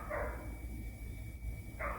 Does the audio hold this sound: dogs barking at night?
yes